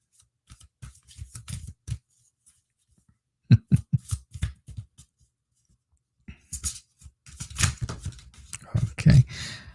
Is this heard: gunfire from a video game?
no